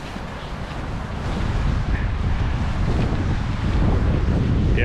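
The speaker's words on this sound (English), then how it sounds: "Yeah, it's windy." Strong wind buffets the microphone outdoors in nature, a steady low roaring rumble that continues throughout with no talking.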